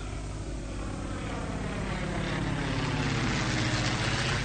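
An airplane in flight on a flight lasting several hours gives a steady, broad engine drone heard from inside the cabin, constant and moderately loud throughout with no talk.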